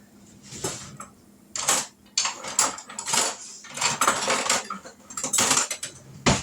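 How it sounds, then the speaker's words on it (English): A spatula stirs apple cake batter in a bowl, giving close bursts of knocking and scraping against the bowl in uneven strokes separated by short pauses, with no talking. "Let me grab a spatula and kind of stir that up a little bit."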